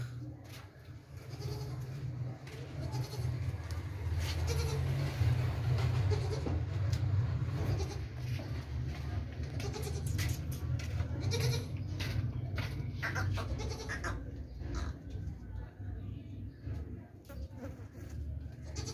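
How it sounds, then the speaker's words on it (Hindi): Goats, including a black-and-white nanny and kids, bleat now and then in a pen. The calls are faint and distant under a steady low rumble and general noise. "बकरी देखें भाई, बहुत ज़बरदस्त बकरी है"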